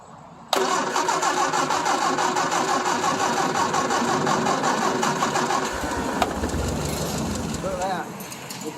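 An old Triumph Spitfire engine, unused for 12 years, cranks and catches abruptly, then runs loud and steady at a rough idle nearby, with a voice speaking briefly near the end.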